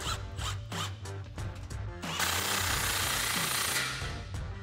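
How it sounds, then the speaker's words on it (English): A 15 millimeter socket on a ratchet tightens a clamp on an MBRP Armor Lite cat-back exhaust: a quick series of close ratcheting clicks, followed by a longer continuous metallic whir. "come back to our clamp and slide that into place and tighten it down with our 15 millimeter socket"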